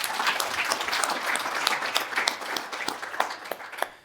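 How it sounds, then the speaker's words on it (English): An audience at an energy-policy panel gives a round of applause for the panelists: thick, continuous clapping with sharper individual claps standing out near the end. "Let's give them all a round of applause, please"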